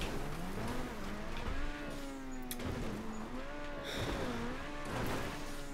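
A car in the GTA Online game drives slowly over dirt, its engine droning and wavering in pitch as the throttle rises and falls, steady and fairly loud with no voices.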